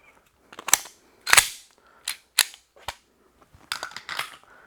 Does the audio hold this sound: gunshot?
yes